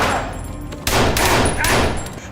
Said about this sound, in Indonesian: Karena bunyi tembakan tersebut,